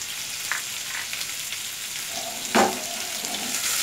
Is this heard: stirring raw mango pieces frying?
yes